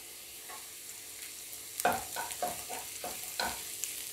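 A spatula stirs and scrapes a pan as food sautés with a pinch of turmeric powder for egg curry, the quiet sizzle broken by a run of distinct scraping strokes in the second half.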